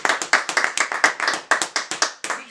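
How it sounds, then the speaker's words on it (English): A short burst of clapping for a performer on a live music review show, crisp individual hand claps in a quick uneven rhythm, close and fairly loud with nothing else beneath them. "I'm just gonna give her a round of applause"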